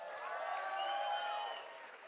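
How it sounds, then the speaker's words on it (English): Wedding reception guests clap together, a brief, continuous burst of crowd applause with high cheers and whistles on top, holding steady and then thinning slightly. "Please give them a big round of applause."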